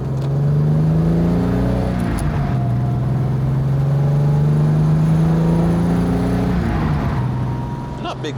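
An old Jaguar car engine drones steadily at close range, its low hum shifting pitch as it changes gear, with a continuous rumble throughout.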